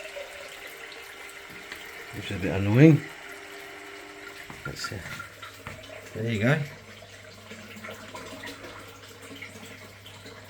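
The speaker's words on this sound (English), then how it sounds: "There's still water coming out." Water flows steadily from a Swell Aquatics external aquarium filter, a soft, continuous trickle and splash heard close up, with someone speaking briefly twice over it.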